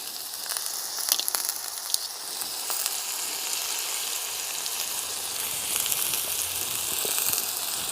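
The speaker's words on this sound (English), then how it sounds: "Oh, my steak is a sizzling." Steady, close sizzling and crackling of steak frying in a hot pan at a campsite, with occasional sharper pops over a continuous hiss.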